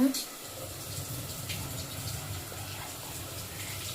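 Tap water running steadily while fresh chicken is washed in a kitchen sink, a constant close splashing gush that lasts throughout.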